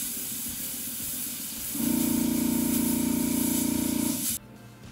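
Airbrush spraying a marble coat of Mr. Paint onto a model, a soft low hiss that swells into a steady louder spray for about two seconds and then cuts off sharply, close and alone.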